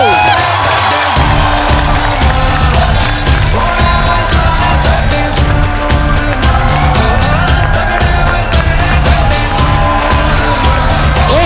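A studio audience at a comedy talk show cheers and claps loudly for sports guests, a sustained wall of applause with whoops and shouts that holds steady and fills the whole stretch.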